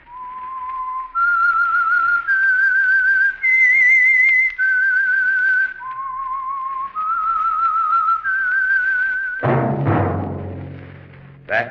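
A clear, loud whistled melody on an old-time radio broadcast, the theme of The Whistler, carries a sustained tune of held notes, ending in a sudden burst of orchestral sound.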